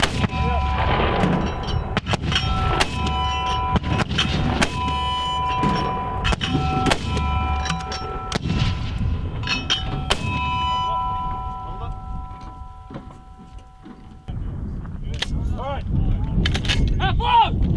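US Marines fire weapons in a live-fire exercise at Camp Fuji, Japan, with loud, sharp gunshot bursts booming repeatedly at irregular intervals and shouted voices between them.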